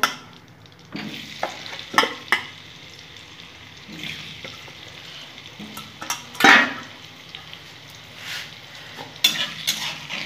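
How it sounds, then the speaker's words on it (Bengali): Potatoes frying in oil in a pan for a chicken kosa dish give off a steady close sizzle, broken by scattered sharp clinks and scrapes of a spoon against the pan. "আমি এখানে আলুগুলো ধুয়ে রেখেছি বন্ধুরা, এগুলো ভেজে নেব।"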